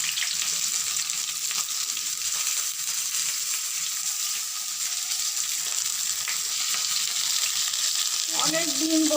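Pieces of pointed gourd (potol) frying in hot oil in a home kitchen, a continuous soft crackling sizzle at moderate level, with a brief clink of a utensil stirring near the end; no one speaks.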